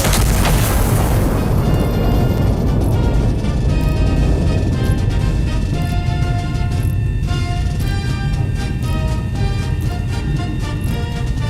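Artillery in the war game Iron Nest goes off in a single loud, deep boom that rolls on as a long rumbling decay, with no talking.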